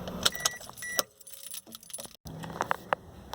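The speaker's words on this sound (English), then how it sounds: "so I'm going to go ahead and shut the car off now." Keys jangle in a car's ignition as the engine is switched off, bright metallic clinks near and close, a brief drop to silence, then more rattling of the keys.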